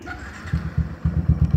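Yamaha Byson 2014 custom scrambler motorcycle cranking after a failed first start, a series of low rhythmic chugging pulses that build into uneven engine firing, close and moderately loud.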